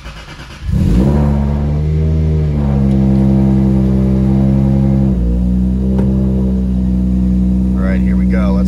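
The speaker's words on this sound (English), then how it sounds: "we're gonna start this thing up, and you can hear the raw power of an NA2JZ" A naturally aspirated 2JZ engine in a car fitted with a Grannas Racing T56 Magnum gearbox cranks and fires, then settles into a loud, steady, close idle with rising revs and throaty harmonic drone throughout.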